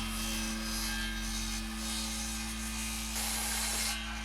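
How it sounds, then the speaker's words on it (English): A hand saw kerfs a wooden tenon for traditional house joinery, producing a steady, moderately faint rasping under a low constant hum, with a brighter scraping burst near the end and no talking. "Here I am kerfing the tenon a little bit above the markings."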